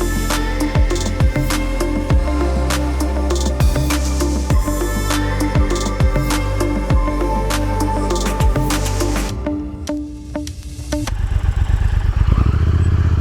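A 2019 Triumph Speed Twin 1200 parallel-twin engine runs loud and close, with a steady rumbling idle and rhythmic mechanical clatter, then briefly dips and revs back up.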